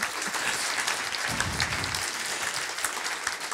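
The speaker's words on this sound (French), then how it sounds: "Je crois qu'elle mérite vos applaudissements" Audience applause after a talk on homosexual behaviour in animals: a dense, sustained round of clapping from a seated crowd, continuous and fairly even for several seconds with no speech over it.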